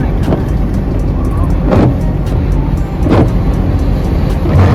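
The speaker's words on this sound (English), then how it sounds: "we're just gonna enjoy this 4-hour drive in the van" Van cruising on a road in winter, a steady loud broadband road and engine rumble filling the cabin with a few brief louder swells, no talk over it.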